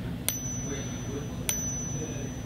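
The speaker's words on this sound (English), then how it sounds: "Nothing sounds quite like real silver when you tap it with the foreign object." Two bright, high metallic pings about a second apart, each ringing briefly over a low background hum, like a silver coin tapped.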